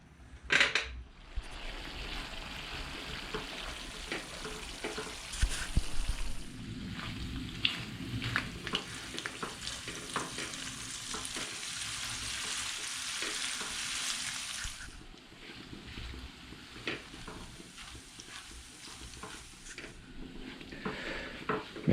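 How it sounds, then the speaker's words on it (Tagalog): Coconut milk simmers and reduces in a pot for latik, making a continuous soft sizzling bubble, with occasional light clinks and stirring scrapes rising and falling over the bubbling. "Hayaan natin kumulo hanggang matuyo siya."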